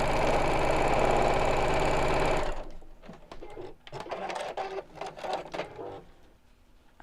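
A sewing machine stitches steadily down the centre of zip tape for a couple of seconds and then stops, followed by fabric rustling and handling noises up close.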